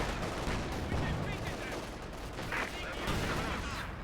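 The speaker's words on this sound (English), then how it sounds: "And there goes the cannon warfare." Cannon fire in the Company of Heroes 2 video game booms in rapid, overlapping heavy blasts amid a dense, continuous battle din of gunfire and explosions, loud and chaotic throughout.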